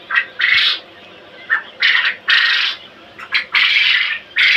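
Quail chicks, around 16 to 21 days old, call from pens on a quail farm in a series of shrill, raspy bursts that come in uneven clusters, close by and fairly loud, with no talking.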